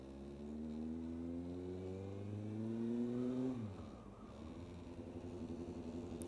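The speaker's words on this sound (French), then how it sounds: "Je sais pas également si on entendra bien le bruit de ma moto." A motorcycle engine recorded from inside the rider's helmet: a steady humming drone that rises in pitch as the bike accelerates, drops sharply with a gear change, then settles and climbs again, close and prominent with wind noise.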